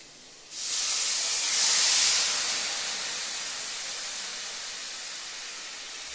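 Water poured into a hot pan of roasted carrot and onion for upma, bursting into a loud steaming sizzle and hiss that peaks early and then slowly settles into a steady fizz.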